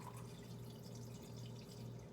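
A small splash of wine trickles softly into a cooking pot, a faint, brief, continuous pour with no voices.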